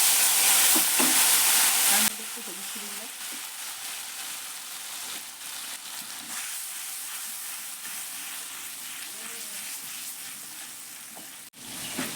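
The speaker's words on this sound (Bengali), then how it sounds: "কড়াইতে জিরে ফোড়ন দিয়ে বন্ধুরা দিয়ে দিলাম মশলাটা" Spice paste with cumin seeds frying in a wok starts with a loud burst of hissing sizzle, then settles into a quieter steady crackle while a spoon stirs and scrapes close by, and no one speaks.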